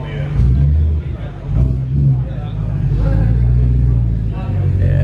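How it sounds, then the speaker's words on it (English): Performance cars revving on a dyno at a VAG versus M Performance event, deep rumbling engine drone rising and falling under loud, close talk. "it's gonna have a couple of pops and bangs"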